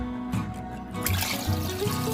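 Water is poured into a pot of spicy mutton soup in a home kitchen, a soft running trickle that turns more splashy partway through, heard faintly among low background tones.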